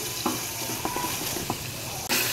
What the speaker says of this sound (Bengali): তো 2 মিনিট একটু তেলে ভেজে নিয়েছি।